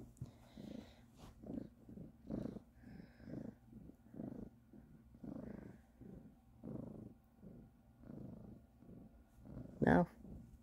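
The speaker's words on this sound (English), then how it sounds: "But she's purring. Oh, purring loudly." A cat purrs loudly and steadily, a close, rhythmic rumble of repeated breaths over several seconds, ending with a brief sharper sound near the end.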